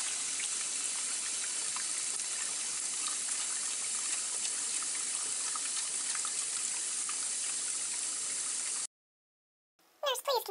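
Water runs steadily from a tap as hands are scrubbed in before surgery, a constant hissing stream that cuts off abruptly near the end, followed by silence and a brief burst of other noise.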